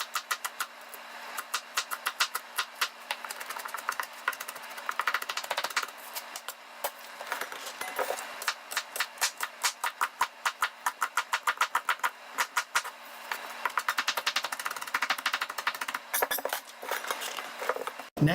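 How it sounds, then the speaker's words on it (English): Knife chopping onions and greens on a board for kimchi, a fast steady run of crisp close cuts with brief pauses between bursts and no talk. "I'm going to cut up all of these onions and a lot of the greens"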